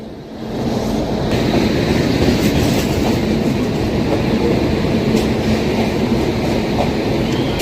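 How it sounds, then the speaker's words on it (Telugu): Humsafar Express train hauled by a WAP-7 electric locomotive runs steadily with loud, continuous rumble and rhythmic clickety-clack of wheels over rail joints, heard close from on board. "ఈరోజు మనల్ని తిరుపతి వరకు తీసుకెళ్లేది వ్యాప్ 7 లోకోమోటివ్ అండి"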